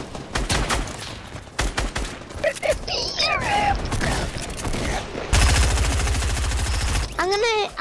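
Gunfire in the Fortnite video game: scattered sharp shots, then a dense rapid burst of automatic fire, loud and close, with voices talking briefly in between.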